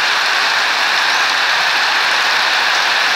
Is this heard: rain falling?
yes